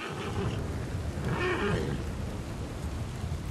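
Stormy weather in Red Dead Redemption 2 with steady rain hiss and a low rumble of thunder rolling underneath, while a horse is spooked by the storm; no talking.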